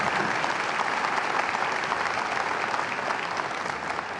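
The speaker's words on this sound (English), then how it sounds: "Please give them a round of applause." Steady applause fills a high school graduation ceremony, a broad wash of many hands clapping continuously from a large crowd, even in level throughout.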